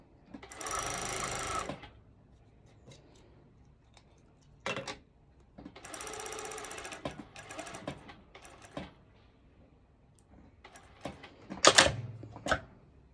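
A sewing machine top stitches a ruffled mini skirt with built-in shorts in several separate runs of rapid, close stitching, the longest two lasting over a second each, with short bursts and a brief clatter between them.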